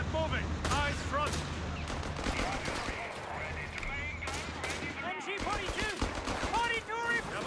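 Gunfire rattles through a Company of Heroes 3 battle, with rapid overlapping bursts and sharp single shots, some near and some distant, while soldiers' voices shout beneath and between them.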